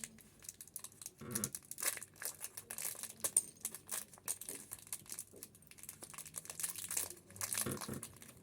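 Plastic wrapping on a toy package is crinkled and torn open close by, with a steady stream of irregular crackles and crunches and no voices.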